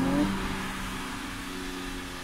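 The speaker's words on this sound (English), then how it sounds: "It's okay for a stock exhaust." A Nissan Z engine with a stock exhaust revving briefly then settling into a steady, low exhaust drone, fairly close, with no talking.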